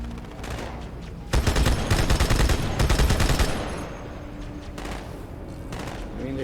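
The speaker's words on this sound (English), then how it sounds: "they're shooting over there" Rapid automatic fire in Halo 2: Anniversary multiplayer rattles out in a dense, loud burst lasting about two seconds, then fainter, scattered shots continue in the distance.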